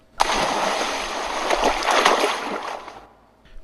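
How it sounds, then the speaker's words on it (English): Batmobile from Batman: Arkham Asylum plunging off a dock into the water, a loud sudden splash followed by a rushing, churning wash that fades out after about three seconds. "the speeding Batmobile carries Bane as it flies off from the docks into the water below"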